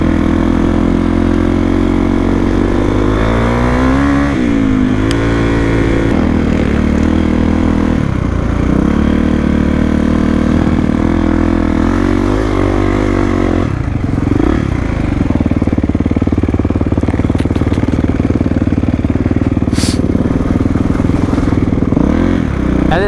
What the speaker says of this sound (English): We got Jake over here on the KTM and then Sam on the KLX here.